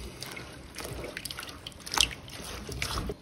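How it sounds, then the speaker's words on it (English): Freshly rinsed rapini, broccoli rabe, sheds water in a kitchen: soft scattered drips and light trickling, quiet and close, with one brighter splash near the middle. "We give the rapini a rinse."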